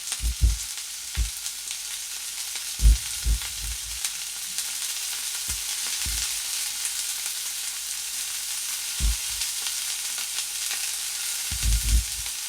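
Mutton pieces fry in oil with a steady, soft sizzle, broken by occasional low thumps and scrapes as the pieces are stirred in the pan.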